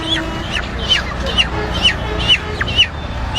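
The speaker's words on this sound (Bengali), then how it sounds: "মুরগি" Chickens for sale at a market in Bangladesh clucking and squawking in a steady series of sharp calls, close by over busy background chatter.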